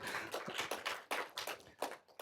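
A brief burst of audience applause at a tech conference on analytics, with uneven waves of clapping rising and falling in quick pulses.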